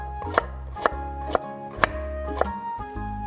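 A knife chops through carrot on a cutting board, about five sharp, evenly spaced strokes standing out over a steady low background hum.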